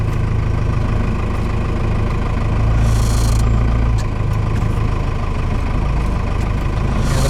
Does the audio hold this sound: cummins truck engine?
yes